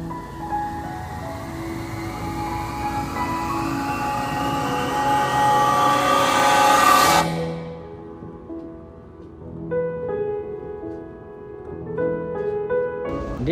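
A train ride in Japan: a steady, loud rumbling drone holds for about seven seconds, then drops abruptly to a quieter hum with tonal whines, suggesting a train moving, then slowing or entering a quieter section.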